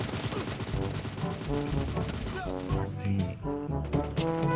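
Rapid gunfire in the PUBG Mobile video game, bursts of sharp repeated shots crackling in quick rhythm with game effects layered around them, fairly loud and close.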